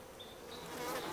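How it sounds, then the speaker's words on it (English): Steady buzzing of wild bees in bushes in a Taroko forest, Taiwan, a continuous hum with faint high whines drifting past, quiet and outdoors. "There are wild bees in the bushes"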